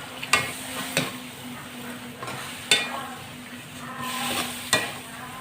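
String beans being stirred into boiling adobo in a pot, a spoon knocking the pot several times in an uneven rhythm over a steady bubbling sizzle, close, with no talk.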